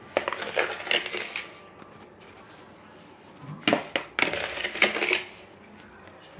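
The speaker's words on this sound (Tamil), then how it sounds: "இப்போ நான் 4 உலக்கு 4 உலக்கு சீனி சேர்க்க போகிறேன்" Granulated sugar is poured into a cashew sweet mixture, giving gritty, crunchy rustling in two close bursts separated by a quieter pause.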